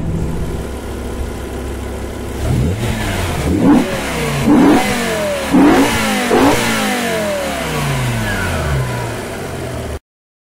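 A car engine with original exhaust, on a car under restoration, revs up several times in quick bursts, rising and falling in pitch over a steady idle, close and loud.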